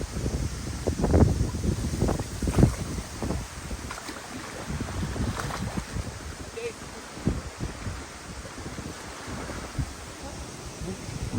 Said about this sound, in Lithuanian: vėjukas toks, kad ohoho, atrodo kaip prie jūros jau